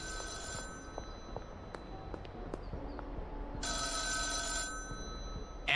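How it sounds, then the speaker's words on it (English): A payphone rings inside a video game, a steady electronic ringing layered over game background sounds, with tonal bursts near the start and again toward the end. "Well, I hear the payphone."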